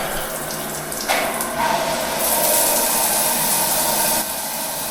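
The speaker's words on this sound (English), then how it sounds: "it's a nice sort of powerful rainfall shower" Powerful rainfall shower running in a hotel ensuite in Pattaya, a steady close rush of falling water that swells louder midway.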